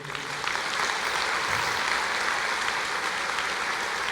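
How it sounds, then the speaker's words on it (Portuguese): A church congregation applauds during a sermon, giving a continuous wash of many hands clapping at an even level throughout. "Você pode aplaudir o Senhor?"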